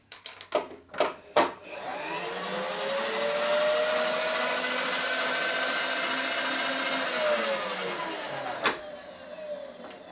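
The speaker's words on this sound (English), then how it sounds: "My new counter sink for cleaning up the hole. Deburring tool." A few sharp knocks come first, then a countersink deburring tool spins in a hole in metal, a steady high motor whine lasting about seven seconds before it winds down with a final click.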